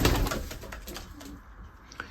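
Racing pigeons in a loft coo in soft, low, rolling calls. A louder burst comes first, then the cooing fades back to a quieter murmur, with a faint flutter near the end.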